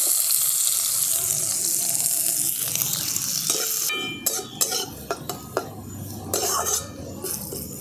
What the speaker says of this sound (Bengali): পেঁয়াজটা একটু ভালো করে ভাজা ভাজা করে নিয়েছি